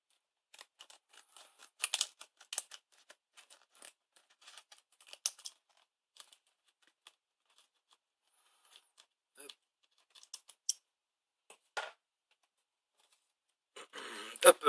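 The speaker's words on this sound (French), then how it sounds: "on va prendre un petit ciseau" Small scissors snipping open a sealed plastic package, giving scattered crisp cuts and crinkles close by, with a louder rustling burst at the end and quiet pauses between.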